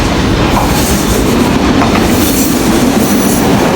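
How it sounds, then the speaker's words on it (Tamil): A train arriving at a station in Colombo, Sri Lanka rumbles loudly and steadily close by, a continuous heavy roar with faint clattering of wheels on the rails. "வருது வருது நமக்கான ட்ரெயின் வந்து கொண்டே இருக்குது"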